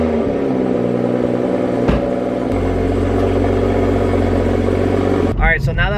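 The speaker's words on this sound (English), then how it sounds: "But first, let's do a cold start." Toyota A90 Supra cold start: a sharp crank and catch, then a loud, steady fast idle that drones on before a voice talks over it at the end.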